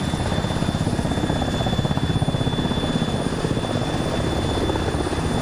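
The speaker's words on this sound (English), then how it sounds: "they popped the blue smoke for this helicopter to come in" A helicopter arriving in an Arma roleplay game makes a loud, steady rotor thump and engine whine throughout, close and unbroken, with no talk over it.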